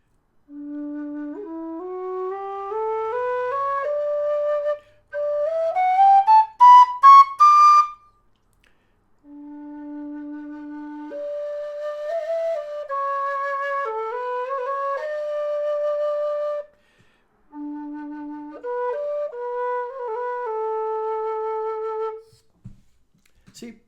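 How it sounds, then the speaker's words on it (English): A low D tin whistle, either a Howard or a Nightingale by Karavaev, plays a slow melody solo, with clear sustained notes and short breaths between the phrases. "both absolutely lovely whistles to play, and I think lovely to listen to as well"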